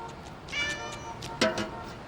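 A cat meows twice in a stray, alley-cat manner, the first call drawn out and the second sharper and louder, close and clear against a quiet background.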